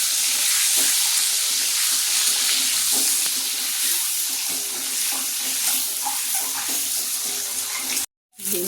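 An egg fries in oil with turmeric and salt in a pan, giving a steady loud hiss and sizzle with small pops throughout, briefly dropping out near the end, with no talking.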